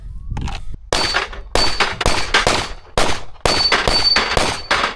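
Kimber 2K11 pistol firing a rapid string of sharp, loud gunshots, each crack ringing with a metallic clang, in several quick bursts with brief pauses between them.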